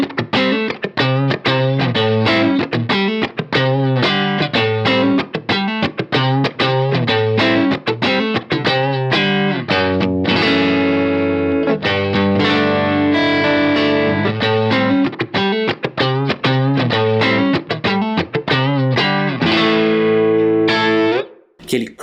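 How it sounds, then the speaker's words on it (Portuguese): Electric guitar played through a Strymon Iridium amp simulator set to a light tweed crunch, a bluesy, dynamic tone: busy picked phrases and chords, loud and close, with a sustained chordal passage in the middle and no talking. "introduzir só um pouquinho da sonoridade tweed para esse amplificador e aumentar o ganho para ter um pouquinho de distorção, eu tenho um som de blues bem interessante"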